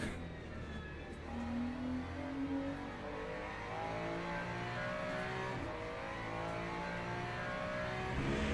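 A Ferrari GT3 race car with a rear-mounted engine roars in the racing game Le Mans Ultimate, its engine note holding steady through a corner then climbing as it accelerates, continuous and close.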